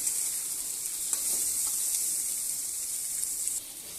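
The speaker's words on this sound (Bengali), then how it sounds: "এখন কাঁচা লঙ্কা ফোড়ন দিলাম" Green chillies for a chickpea dish crackle and sizzle in hot oil as a tempering, giving a steady bright hiss that slightly drops in level near the end.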